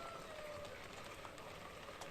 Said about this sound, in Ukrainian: Дощик моросить, напевно, затягнувся на день-два.